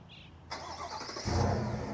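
A 2023 GMC Sierra 1500 AT4 pickup starts by remote: a thin electronic tone first, then a broadband whoosh as it cranks, settling into a deeper engine rumble that swells toward the end, heard close and without talk.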